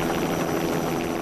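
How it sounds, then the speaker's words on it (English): Chartered helicopter flying up the coast from Blackpool toward Morecambe, a steady, loud rotor and engine drone holding evenly throughout without pause. "Lady Thatcher is on her way and he's chartered a helicopter to run him up the coast to Morecambe."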